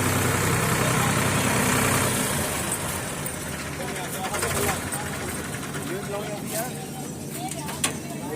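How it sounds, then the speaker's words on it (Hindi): Tractor engine running steadily in a village, a continuous low diesel rumble heard under lively talking by several people nearby, moderately loud throughout. "वो भाई साहब चला रहे ट्रैक्टर।"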